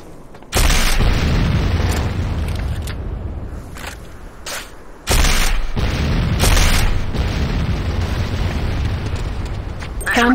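C4 detonations from the video game Renegade go off as two loud booming blasts several seconds apart. Each is followed by a long rumbling, crackling roar.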